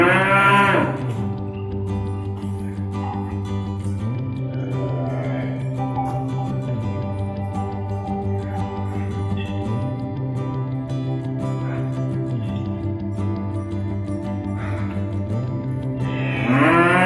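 A cow gives long, deep, sustained moos right after giving birth, one continuous lowing call that shifts pitch in steps, loud and close with no talking.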